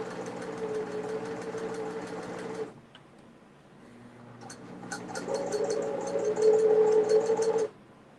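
A sewing machine topstitches a fabric keychain, running steadily with a buzzing hum, then stopping briefly and starting up again at a louder, faster speed before cutting off.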